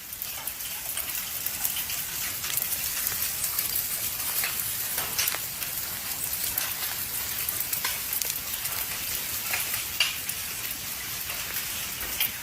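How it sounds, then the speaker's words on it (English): Rocks pelting down like rain in a volcanic eruption in a game, a dense steady patter of many small impacts with sharper clicks scattered throughout, continuous and fairly loud with no voices. "it's raining rocks."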